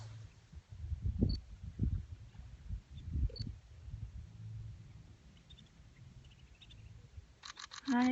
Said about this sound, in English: So if you're hearing that sound, it's his camera.